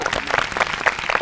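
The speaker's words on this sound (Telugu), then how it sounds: "ఇప్పుడు కొట్టాను క్లాప్స్." A crowd at a youth gathering's quiz game bursts into brief, dense clapping that sounds loud and close throughout.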